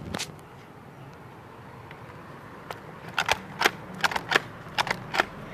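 Nerf blasters fire in a ragged volley, a run of sharp snapping pops clustered near the end after a quieter stretch, with light background noise and no talk.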